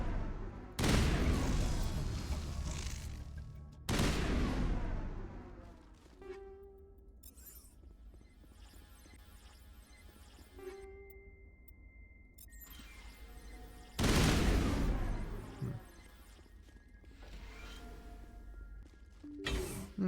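Bursts of loud weapon fire in a Mass Effect firefight, with several heavy volleys separated by quieter stretches of lighter shots and chimes.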